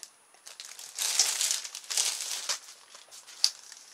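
Close crinkling and rattling of thin, hollow plastic tubing as a cheap expanding plastic garden trellis is handled and flexed, in uneven bursts with a few sharper clicks.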